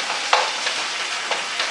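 Minced meat frying in a pan, a soft steady sizzle with a few brief utensil scrapes and clicks, close and moderately loud, no voices.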